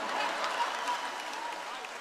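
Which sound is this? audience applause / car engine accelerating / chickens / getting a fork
audience applause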